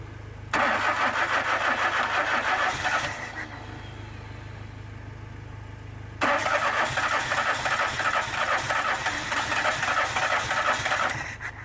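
A Citroen CX with a starting fault cranks and then keeps turning over, giving a loud close-up churning whir in two long bursts separated by a pause, with no one talking.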